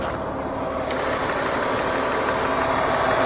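A car engine idles smoothly and steadily under an open hood, a close, even mechanical hum with a faint rattle running evenly throughout, no voices over it.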